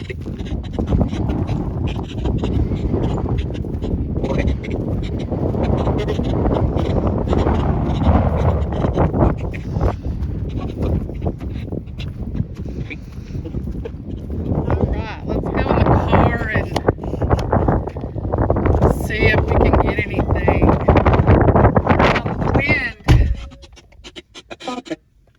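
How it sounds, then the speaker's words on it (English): High winds batter the microphone outdoors in a continuous heavy rumble with crackling and scraping sounds, while people talk intermittently over it before it drops away at the end. "It's just so windy."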